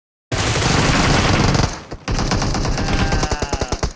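Loud, close automatic gunfire in a first-person shooter video game: a long sustained burst, a brief pause, then another burst that ends in distinct rapid individual shots.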